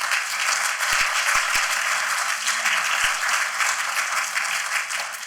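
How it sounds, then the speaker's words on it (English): A seated conference audience gives its panellists a round of applause, a loud, steady wash of many hands clapping, with a few sharp knocks early on. "Please give them a round of applause."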